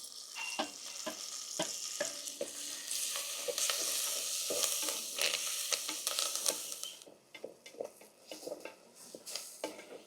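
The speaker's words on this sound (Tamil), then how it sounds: "வெங்காயம் தக்காளி எல்லாமே நல்லா வதக்கிட்டேன்." Onions and tomatoes with green chilli and curry leaves sauté in a pan as the base for a fish curry. There is steady close sizzling and frying, with scattered clinks of a spoon stirring, and no talk.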